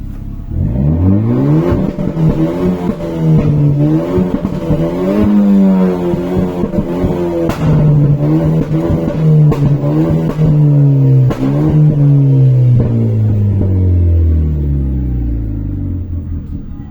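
Renault Clio RS fitted with a downpipe exhaust, revved hard and held high for a long, steady stretch, its loud engine note rising and falling in pitch with layered harmonic whine and no voices.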